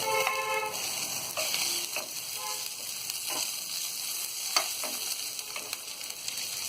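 Onions, garlic and ginger sizzle and fry in a pan for palak paneer as chopped green chillies go in, a steady loud crackle with a few stirring scrapes, no voices.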